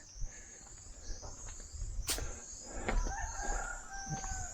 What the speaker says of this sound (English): the only thing you can hear here is the birds, the odd cockerel